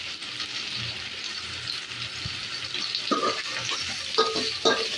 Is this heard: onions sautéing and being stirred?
yes